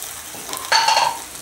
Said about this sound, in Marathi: हे जे वाटण केलेलं आहे मिरची आणि लसूण, हे आपण थोडं परतवून घेऊया छानपैकी